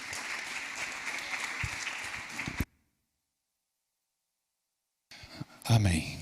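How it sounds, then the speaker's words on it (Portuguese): Congregation applause in a church service, a steady burst of clapping that cuts off abruptly into silence, then returns briefly with voices and louder sounds. "Você pode aplaudir ao Senhor,"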